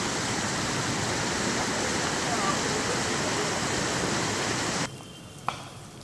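Heavy monsoon rain and rushing floodwater in Kurla, Mumbai, make a loud continuous roar that drops away abruptly near the end, leaving a quieter wash with a brief knock.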